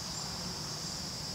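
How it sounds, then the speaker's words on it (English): Crickets and locusts buzz and chirp outdoors on a quiet, secluded rural lot in northern Frederick County, Maryland, forming a steady, continuous drone with no break. "crickets, locusts out here."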